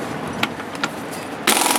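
Air impact tool cracking loose 19 mm lug nuts on a 2001 Buick LeSabre wheel, outdoors in gusty wind; a rapid rattling hammer burst starts sharply near the end after brief clicks, loud and close.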